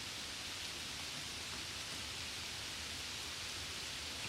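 Steady, dense rain falling without pause, a broad even hiss that stays constant throughout, with no voices or other sounds.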